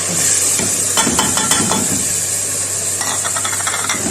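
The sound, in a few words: tomato puree frying in pan for Pindi chole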